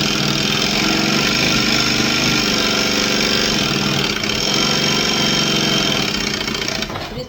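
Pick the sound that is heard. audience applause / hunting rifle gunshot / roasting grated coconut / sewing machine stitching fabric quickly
sewing machine stitching fabric quickly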